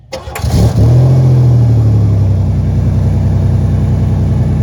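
A 1991 Buick engine cranks briefly, catches and roars to life after a fuel filter repair, then settles into a loud, steady idle close by.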